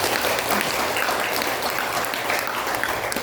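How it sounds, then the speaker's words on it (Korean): A church congregation claps for an engaged couple, a loud, dense and steady round of applause from many hands that fills the sanctuary evenly for a few seconds, with no speech over it. "아직 결혼식이 아니지만 미리 축복의 박수 하겠습니다."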